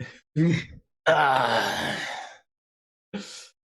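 A man imitates an old giant panting, giving a few short breathy gasps and then a long groaning exhale, loud and close, with silences between the breaths.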